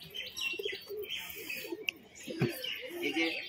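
A male pigeon coos softly in a few short, low murmurs against faint chirps and light background noise, heard at close range without speech.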